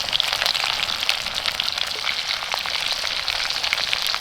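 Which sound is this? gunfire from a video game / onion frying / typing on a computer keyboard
onion frying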